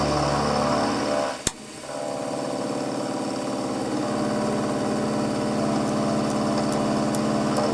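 A machine tool takes a 2mm cut on metal for bespoke hinges. A steady engine-like drone runs throughout, broken by one sharp metallic clack followed by a brief dip before the hum resumes.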